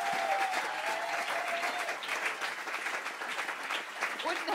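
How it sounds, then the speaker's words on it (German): A concert crowd at a CD release showcase claps steadily for two recording and mixing engineers, a dense, sustained wash of applause with a few voices and a brief whistle-like tone mixed in. "auf jeden Fall auch nochmal großen Applaus für die beiden"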